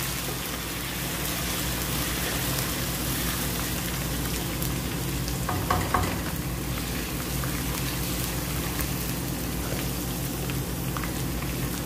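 Garlic and ginger frying in a pan with browned onion, making a steady, dense sizzle with crackling pops throughout, close and fairly loud, with no talking.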